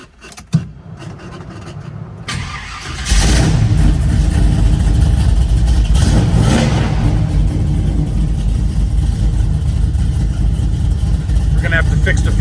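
A 1972 Chevrolet Nova with front disc brakes and a strong cam starts up and revs hard, a loud, close, sustained engine roar rising after a quiet opening and holding steady to the end.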